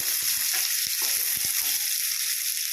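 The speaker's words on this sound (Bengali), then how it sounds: "এরপর পেঁয়াজগুলো তেলের মধ্যে দিয়ে দিতে হবে। এইভাবে নাড়াচাড়া করে নিতে হবে।" Onions frying in hot oil for a prawn pulao, a dense continuous sizzle close up with soft scraping knocks as they are stirred, no talking.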